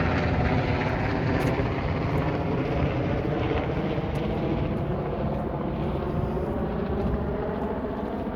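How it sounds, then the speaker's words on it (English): A helicopter passes overhead, giving a loud, steady broadband rumble with a faint rhythmic rotor beat that holds for the full stretch, with no voices over it. "there's a helicopter above me"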